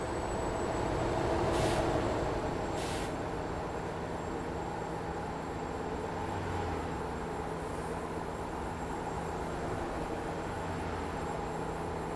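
A truck in Euro Truck Simulator 2 roars along at its top speed, a steady, fairly quiet engine and road drone with a faint high whine and two brief bursts of noise early on.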